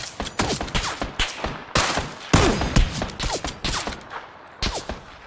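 Groza rifle gunfire in PUBG, loud sharp shots in quick bursts and single cracks spread across the moment, nearly no talk.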